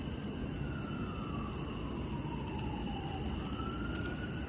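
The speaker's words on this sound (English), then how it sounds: "Them sirens never mean something good happened" A distant ambulance siren wails continuously, rising and falling over a steady roar of traffic noise, with no talking.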